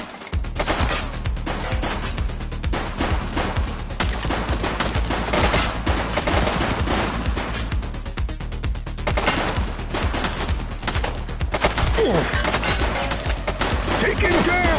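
Gunfire in The Precinct, a police video game: repeated bursts of shots ring out steadily and loudly through the whole stretch as a dense, continuous fusillade, with voices faintly mixed in.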